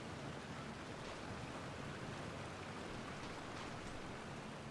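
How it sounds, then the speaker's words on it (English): A waterfall in the video game Genshin Impact gives off a steady, even rush of falling water, a soft continuous wash with no breaks and no voices. "Meditating under the waterfall."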